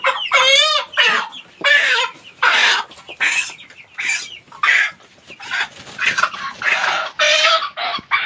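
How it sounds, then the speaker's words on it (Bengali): Several chickens cluck and squawk loudly and repeatedly at close range, in agitated bursts as they are being caught at a poultry farm being readied for market in stormy, muddy weather. "চলো আমরা এই মুরগি ধরে মাপবো"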